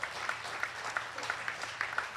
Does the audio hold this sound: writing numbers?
no